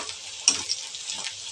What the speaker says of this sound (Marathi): ते मस्त फ्राय करून घेऊ आधी